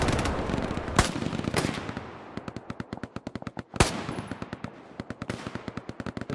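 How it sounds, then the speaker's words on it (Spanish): Machine gun fire in a video game, fast sharp bursts of rapid shots with a few louder single cracks, close and punchy in a steady rattling rhythm. "Vale, hay una ametralladora aquí."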